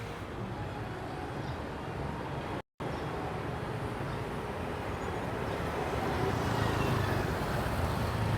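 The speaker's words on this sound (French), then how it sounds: "Là, vous entendez un trafic" Busy city street traffic during Chinese New Year, heard from a moving ride through the town: a dense, steady rumble of engines and motorbikes that swells slightly toward the end, broken by one brief silent gap.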